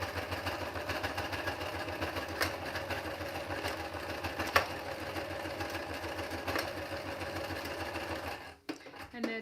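Sewing machine stitching a mixed media card, a steady, rapid mechanical whirr running continuously and close before stopping abruptly near the end.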